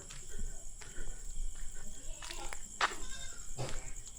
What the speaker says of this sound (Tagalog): Ayan kambing.